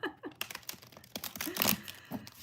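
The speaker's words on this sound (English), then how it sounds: "Okay, we got these nice and shuffled." Tarot cards are shuffled up close in a quiet room, a run of quick, crisp riffling and papery slides in uneven bursts, with no voices.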